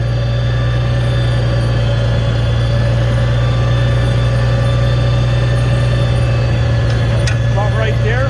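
Farmall 756 tractor engine idling steadily during snow plowing, a loud, close low diesel rumble with a constant hum throughout and faint higher noises near the end.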